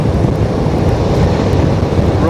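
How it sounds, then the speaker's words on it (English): Heavy headwind and crosswind buffeting a microphone on a motorbike ridden on a long outback highway in Australia, a loud continuous low roar of wind noise over the engine and road. "Riding into a little bit of a sort of a headwind, sidewind at the moment."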